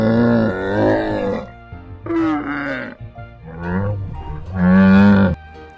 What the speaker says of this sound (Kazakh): мынау шөл даланың кемесі түйе